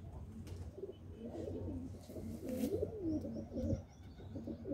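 Pigeons kept in a loft coo steadily in a soft rolling murmur, several birds overlapping close by with no talk over them.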